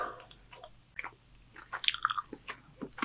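Close, crunchy biting and wet chewing of homemade Taco Bell-style food, coming in irregular bursts with short pauses between mouthfuls and a soft exhale, no talking.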